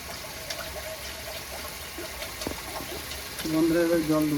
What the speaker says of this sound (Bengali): বন্ধুরা এবার জল দেবো